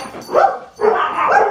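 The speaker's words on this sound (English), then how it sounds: "Excuse my dogs. Any sound outside and they generally get a little crazy." Two close, loud dog barks in quick succession, the second longer and more drawn out, with no talking, set off by a car horn outside.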